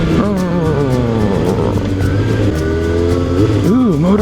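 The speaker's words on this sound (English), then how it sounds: "Ooh, motorcycles." Motorcycle engines, including a Yamaha YZF 600R, rev loudly and continuously with rising and falling pitch sweeps, dense and close throughout, with people talking over them.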